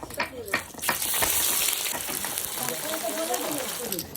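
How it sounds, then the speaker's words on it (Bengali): Cumin, bay leaf and dried chilli crackle in hot oil in a heated wok, a close, bright sizzle with a few sharp pops at the start, then a steady hiss. "কড়াই গরম হয়ে গেছে তেল দিয়ে দেবো জিরে তেজপাতা শুকনো লঙ্কা"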